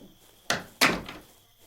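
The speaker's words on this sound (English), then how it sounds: "Are those just the doors closing by themselves?" Two doors thud shut by themselves in a dim, abandoned cult compound in the horror game Sagebrush, a second apart, with a short echoing decay after each.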